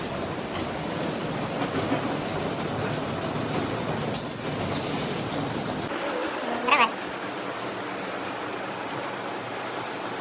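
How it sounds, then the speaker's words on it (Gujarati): Rain falls in a steady, dense wash of hiss and patter, heard close and continuous, with a brief louder splash midway and someone speaking at times under it. "મસ્ત વરસાદ પડે."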